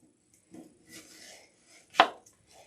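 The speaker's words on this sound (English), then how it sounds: "So what I'm going to do is I'm going to split this down the middle." A forged kitchen knife splits an onion down the middle on a cutting board, giving a few soft slicing scrapes followed by one sharp, close chop against the board.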